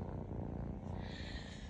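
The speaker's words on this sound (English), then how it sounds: "if you listen really closely, you can hear her purr." Close, steady purring from a resting Maine Coon cat, a low continuous rumble with fine rapid pulses, quiet and alone.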